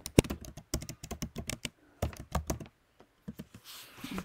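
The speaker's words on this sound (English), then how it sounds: "So I'm just going to type that in here." Typing on a computer keyboard, close and clear, with quick bursts of key clicks broken by short pauses and a final flurry of softer keystrokes.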